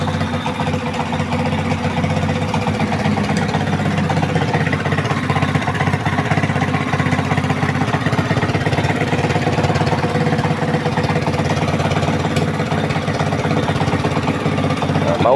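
A 2010 motorcycle engine idles steadily throughout, a continuous low mechanical rumble with a fast even pulse, close and loud, with no voices over it.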